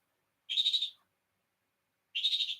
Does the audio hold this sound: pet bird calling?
yes